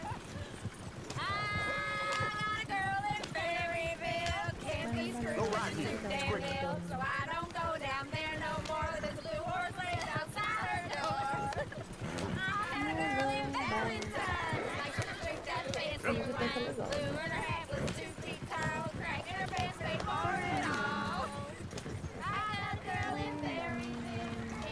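Horse hooves clip-clop in Red Dead Redemption 2, steady and continuous under a busy bed of singing voices and game music, with people talking throughout.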